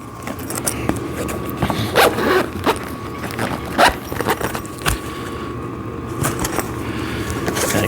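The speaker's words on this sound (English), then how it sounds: "And then you want to zip this up." A zipper on a sissy squat machine cover is pulled in several short rasping strokes, close and fairly loud, with a dog barking at intervals in the background.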